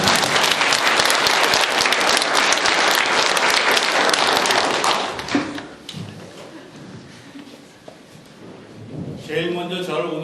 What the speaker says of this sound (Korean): 박수를 좀 한번 쳐주세요.